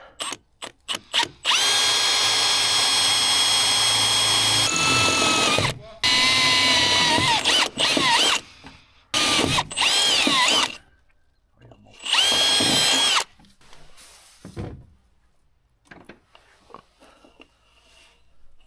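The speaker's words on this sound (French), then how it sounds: "on perce" A power drill bores a hole through the body of a camper truck for electrical cables, running in several loud close whining bursts separated by short pauses, then falling quiet.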